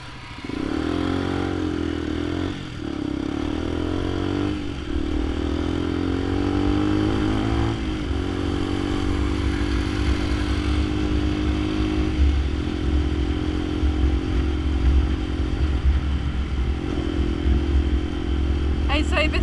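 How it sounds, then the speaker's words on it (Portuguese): A motorcycle cruises along the road, carrying a passenger back from Santos. Its engine drones steadily throughout, with wind rush and a few brief dips in tone, and a rider talks over the noise. "Bonita a moto"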